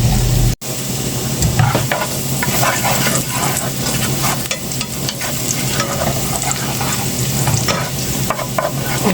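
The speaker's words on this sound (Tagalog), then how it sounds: "Papa-brown ko lang siya na konti." Food browns in a hot pan with a loud, steady close-up sizzle and fry, broken by the scrape and clatter of stirring, cooking a simple Filipino dish, with no one speaking.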